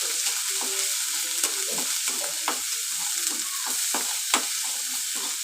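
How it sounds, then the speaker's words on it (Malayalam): Ginger garlic paste frying in hot oil, making a constant close hiss and sizzle with scattered light stirring scrapes and taps, alone without voices. "ചൂടായി വരുമ്പോൾ ഇഞ്ചി വെളുത്തുള്ളി പേസ്റ്റ് ഇട്ട് കൊടുക്കുക. പച്ചമണം പോകുന്നത് വരെ നല്ലപോലെ മൂപ്പിച്ചെടുക്കുക."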